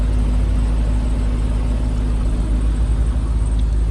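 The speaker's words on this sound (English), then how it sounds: "The stock exhaust is a deep rumble." A Jeep Trackhawk on its stock exhaust gives a deep, steady idle rumble, loud and close with a constant low throb and no voices over it.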